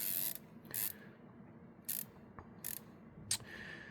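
A Leupold MK4 HD scope elevation turret clicks as it is dialed, giving a handful of crisp, close, separate mechanical clicks spaced irregularly, with no talking.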